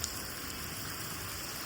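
Wind and rain during a stormy downpour with strong gusts, thunder and lightning, a steady even hiss of rainfall close by without any voices.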